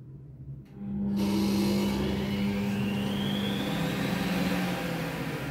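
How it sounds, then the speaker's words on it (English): A DNA commercial juicer motor kicks on after a brief quiet moment and runs at a steady, loud whir with a rising mechanical pitch, alone without any talk. "We turn on the juicer and it's 5 settings."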